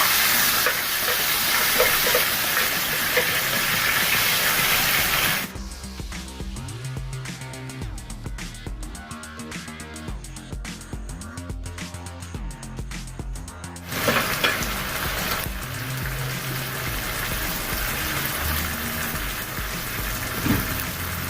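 Onions and tomatoes fry in a pan as the base for a fish curry, a steady hiss and sizzle that changes texture midway as ingredients go in, then returns to a loud, even crackle, with no talking.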